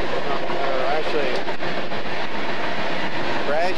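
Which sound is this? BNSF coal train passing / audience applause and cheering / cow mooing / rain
BNSF coal train passing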